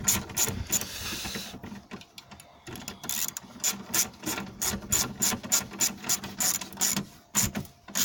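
A ratchet tightens the bolts of a front wiper motor on a Renault Grand Scenic, with a flathead washer on one bolt, giving quick runs of close, sharp clicking bursts broken by short pauses.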